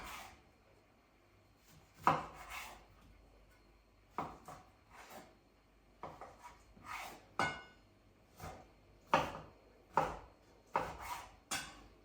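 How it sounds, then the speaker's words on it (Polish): Knife dicing a peeled lemon into small cubes on a wooden board, irregular sharp chops and taps in small clusters with quiet gaps, close up, no talking. "Cytrynę kroję w dość drobną kostkę."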